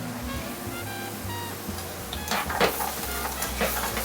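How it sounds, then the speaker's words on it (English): Seafood with white wine sizzling steadily in a hot pan, a close crackling hiss with a low hum beneath and a few louder spits toward the end. "Look at that sizzle."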